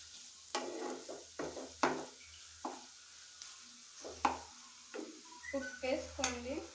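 Pasta ingredients are stirred in a pot with repeated scraping strokes and light sizzling, a series of close, short bursts separated by brief pauses.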